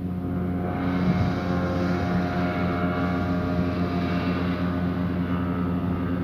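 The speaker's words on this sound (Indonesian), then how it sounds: "Mesinnya mesin tempel lagi. Kedengeran." Outboard motor on a boat pushing against a strong sea current, a steady loud droning engine hum with water rush running throughout, no talking.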